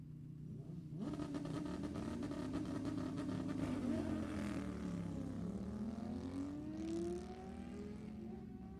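At Sacramento Raceway, a Harley and a Kawasaki Pro Tree drag-racing motorcycle launch down the strip at a bracket race. One faint, distant engine roar climbs steadily in pitch as the bikes accelerate away.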